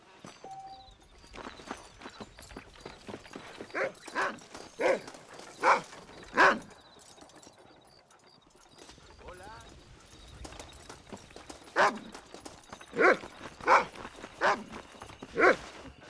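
Dog barking and yelping in the Red Dead Redemption video game, with repeated sharp barks in two clusters and a lull between them, heard among game sounds that include horse hoofbeats.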